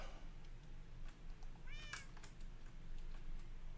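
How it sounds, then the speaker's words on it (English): A cat meows once in Minecraft, a short rising-and-falling wail heard over a steady game background hum. "I hear me a wither cat."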